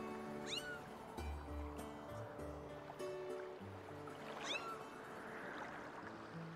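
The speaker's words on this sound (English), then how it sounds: "Alright, time to play with the cat." Video-game cat from Skyward Sword meowing twice in clear rising calls, near and fairly loud, over a busy layer of game music with low tones and water-like ambience.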